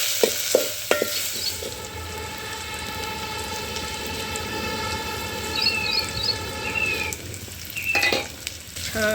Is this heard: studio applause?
no